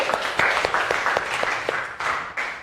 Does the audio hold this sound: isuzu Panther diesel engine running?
no